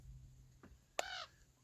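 Birds resembling gulls calling overhead on the Ben Nevis summit, a single harsh, raspy caw preceded by a fainter call, brief and moderately close against quiet wind.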